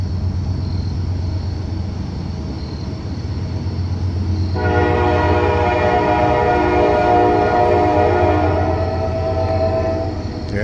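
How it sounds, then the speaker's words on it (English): A train passes by near Washington's Landing in Pittsburgh, Pennsylvania, with a steady rumbling roar under a loud, sustained horn blast that starts midway and holds for several seconds, heard from nearby. "Yep, we're gonna see a train going by real quick."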